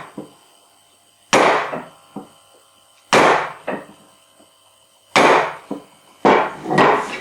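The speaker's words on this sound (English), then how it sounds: "just stick your chisel in that trough and give it a light clump" A mallet taps a chisel cutting a rebate in wood, giving four sharp, close knocks at uneven intervals, each trailed by smaller secondary taps and a brief woody ring.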